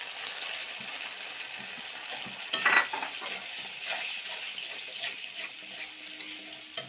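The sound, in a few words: spices frying and spattering in oil in a pan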